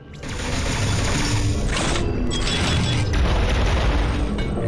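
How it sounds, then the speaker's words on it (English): Rapid bomb blasts from Samus's bomb jump in Metroid: Samus Returns, a loud dense run of booming pops with brief breaks, close and continuous for several seconds. "And I do have bomb jump."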